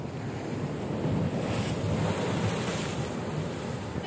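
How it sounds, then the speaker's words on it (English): Big ocean waves break continuously on a beach and nearby rocks in Goa at low tide, a loud, close, unbroken roar of surf with heavy wind buffeting the microphone and no voices. "we've got waves crashing on this side. And then we've got waves crashing on the rocks over there."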